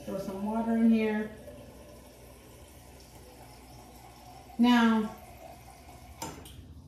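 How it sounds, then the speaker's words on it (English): Water poured into a blender jar for a chai Kachava drink, two short splashing pours a few seconds apart, with someone speaking briefly at the start. "Throw some water in here."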